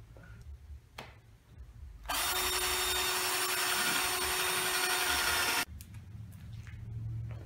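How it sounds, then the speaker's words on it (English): Power drill boring an air vent hole through a charcoal foundry drum, a loud steady whine running for about three and a half seconds, starting and stopping abruptly amid quieter outdoor background. "So I'm going to start drilling this now."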